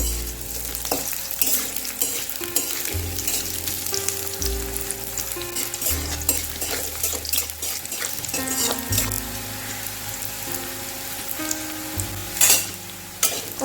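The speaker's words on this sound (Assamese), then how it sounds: "মই 2 ভাগত কঁঠালখিনি ভাজি ল'ম।" Jackfruit pieces fry in hot oil in a wok, a loud, continuous close sizzle with repeated stirring scrapes and clatters throughout, and no talking.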